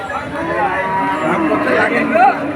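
A cow moos close by at a cattle market in Monirampur over a busy, chattering crowd, the low call rising near the end amid steady background voices.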